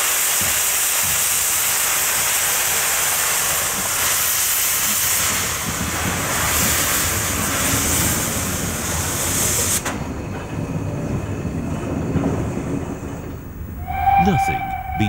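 Steam locomotive running hot on a smooth run, a continuous loud hiss and rushing rumble of steam and rail that abruptly drops at around ten seconds, followed by quieter rumbling and a short whistle-like tone near the end.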